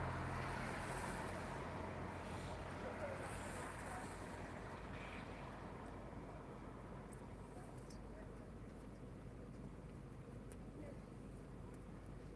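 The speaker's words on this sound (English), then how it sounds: "At least with the sound of the cars, almost sounds like we might fall asleep again" Cars pass on a nearby road at night beside a dab fishing spot, blending into a faint, unbroken rushing wash like distant surf, with no single vehicle standing out.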